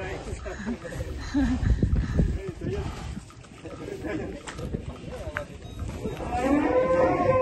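Cattle mooing amid outdoor background noise, with a few low calls spread across the clip and voices talking nearby.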